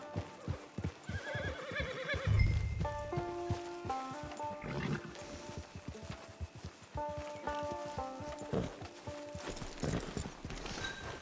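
Horse hooves clip-clop steadily while a horse whinnies, mixed with game music and ambient sounds, moderately loud throughout.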